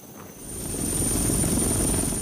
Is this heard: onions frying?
no